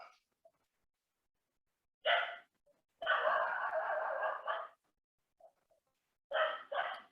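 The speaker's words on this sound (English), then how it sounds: "a bit of barking in the background" A dog barks in the background in separate bursts: two short barks, a longer drawn-out volley, then a final pair, with silence between.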